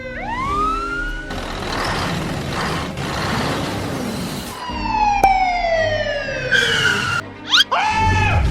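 A toy-style police car siren wails and whoops in repeated sweeping tones over engine and truck noise, fairly loud and close, with cartoonish effects and no talk.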